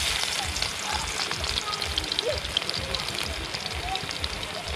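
Garlic goes into a hot pan and fries with a dense, continuous sizzle and crackle, while a voice speaks over it.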